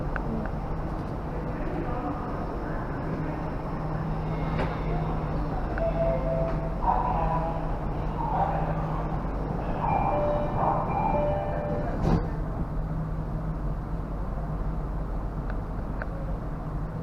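A steady low rumble and hum of a Jakarta MRT car in motion, with faint beeps and rattles over the continuous ride noise; no talking.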